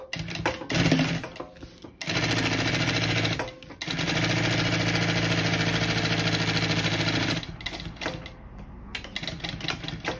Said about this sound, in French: venir coudre à 3 mm de la couture avec un point long